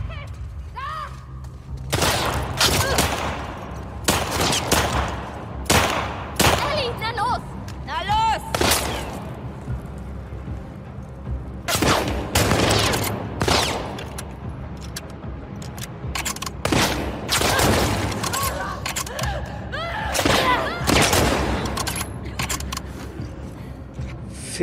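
Gunfire in the video game The Last of Us Part 2, with repeated sharp shots in bursts and single cracks across the scene, mixed with game noise and someone talking over it.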